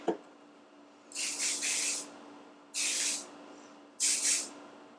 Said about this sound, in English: I'm just going to use a little bit of this hairspray.